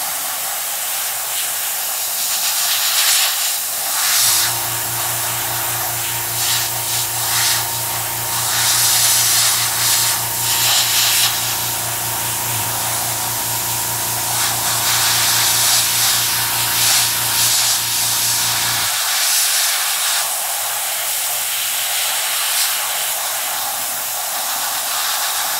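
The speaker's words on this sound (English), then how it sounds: "I always start spraying off and then take it onto the model" An airbrush sprays paint onto a Sturmgeschütz III Ausf B scale model, giving a close, continuous hiss throughout. A steady motor hum runs beneath it through the middle portion.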